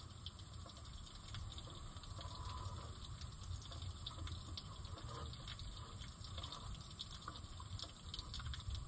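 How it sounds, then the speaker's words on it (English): Hydraulic fluid draining from an Oliver 1365 tractor, a steady continuous trickling and splashing of liquid that runs evenly throughout, close and moderately quiet with no talking. "Let's just let that everything sit open and drip out."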